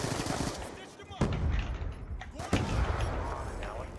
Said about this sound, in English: Oh, I've been shot at!